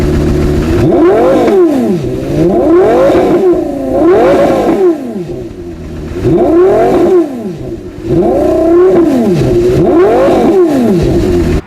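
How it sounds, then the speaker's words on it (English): A Porsche Carrera GT engine revs repeatedly, pitch climbing and dropping in loud, rhythmic surges that rise and fall over and over. "And boy, does that engine sound good."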